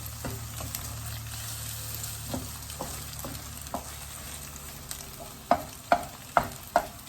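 Eggs sizzle and fry in a pan for a sweet-and-sour egg stir-fry, with a steady hiss and rhythmic scraping strokes of a utensil stirring, growing more pronounced toward the end.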